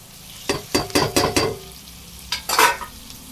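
Dried fish frying with salt and chili in a pan, a run of scraping stir strokes against the pan over a low sizzle, then a short pause and a couple more stirs, close and clear with no talk.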